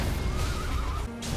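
A horse in the video game Elden Ring gives a loud, drawn-out whinny against a busy in-game background, then cuts off abruptly near the end.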